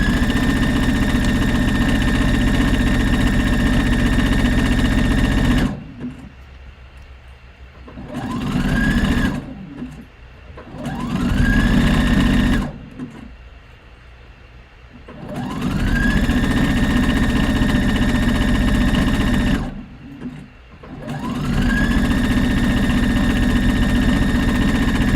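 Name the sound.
sewing machine stitching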